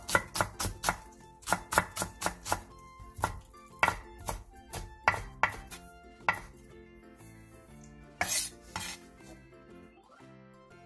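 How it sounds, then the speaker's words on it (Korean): Half a leek-style green onion, split lengthwise, is finely chopped with a knife on a board, a quick run of crisp close taps that slows into scattered cuts, no voices. "대파 2분의 1개를 길게 반으로 가른 뒤 쫑쫑 썰어주세요."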